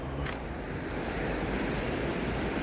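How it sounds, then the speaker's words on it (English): A river at Newby Bridge swollen after heavy rain, gushing with a steady, loud, continuous rush of water close by, unbroken across the whole stretch. "that river's gushing today really bad because it's been raining"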